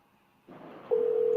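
A steady telephone dial tone starts partway through a call-back attempt, following a short burst of line noise; the tone is loud, continuous and unbroken to the end.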